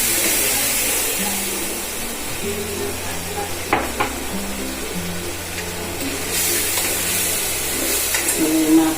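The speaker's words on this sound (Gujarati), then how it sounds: "પછી ટમેટાને બેન સોતળી દઈશું આપણે." Tomatoes with a little sugar sauté in a cooking pan, giving a steady close sizzle with a few stirring clinks.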